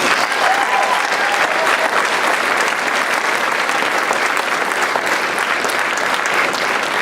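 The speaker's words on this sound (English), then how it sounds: "Would you give them a round of applause?" A school ceremony audience applauds students with loud, dense, continuous clapping that stays steady throughout, filling the hall without any speech.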